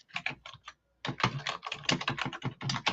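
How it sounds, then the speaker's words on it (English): Rapid typing on a computer keyboard, dense clattering keystrokes in quick bursts with a short pause before resuming, fairly close and steady, alone without talk. "Is he still typing, or is that you?"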